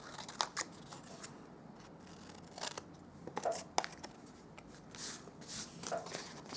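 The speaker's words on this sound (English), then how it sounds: "Then with these ones on the ends, we're going to cut them in half." Scissors snip through strips of cardstock for a small paper craft box. Several short, quiet crisp cuts come close by at uneven intervals, with light paper rustling in between and no talking.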